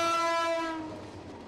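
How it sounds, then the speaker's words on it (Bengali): A loud, sustained train horn blares from an approaching train, then fades gradually over about a second and a half with no talk. "ট্রেন আসছে দোস্ত"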